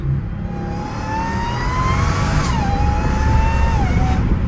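A supercharged Dodge Hellcat Redeye with its exhaust valves open revs hard and close, the engine note climbing, dipping and climbing again under a steady supercharger whine, loud throughout with no talking.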